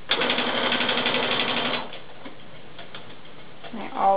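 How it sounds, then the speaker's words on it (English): A sewing machine back stitches a seam with a fast, even run of close mechanical ticks for about two seconds before stopping, followed by quiet handling sounds. "I always back stitch. You don't want your seam to come out."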